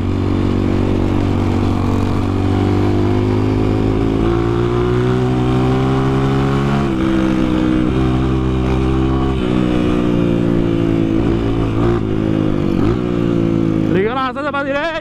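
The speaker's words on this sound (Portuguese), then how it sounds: "Tocou, a moto responde na hora." A Honda CRF 230 motorcycle engine drones loudly and continuously up close on a trail, pitch shifting as the throttle changes, then revving sharply upward at the end.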